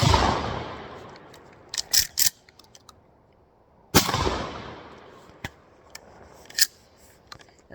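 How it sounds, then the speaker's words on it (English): Two sharp, loud shotgun blasts from a Remington 870 firing buckshot, each a hard crack followed by a long decaying outdoor echo, with a few fainter clacks of the action between and after the shots. "Let's get 2 rounds of burst shot from the Remington 870"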